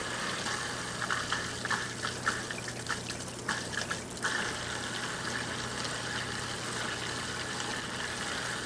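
A Fluval Edge aquarium filter pump primes as water is added back in, giving a steady close trickle and gurgle with a few brief splashy bursts early on, then settling into an even flow.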